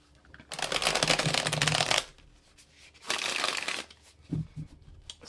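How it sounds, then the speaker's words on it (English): Two bursts of tarot cards being riffled and shuffled close up, each lasting a second or two, with a few soft taps and handling noises after. "let me go ahead and do a quick shuffle"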